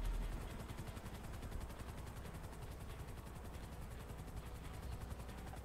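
A helicopter in Grand Theft Auto V during a motorcycle-club heist gives a loud, steady rotor chop that pulses evenly through the whole stretch, with no talk over it.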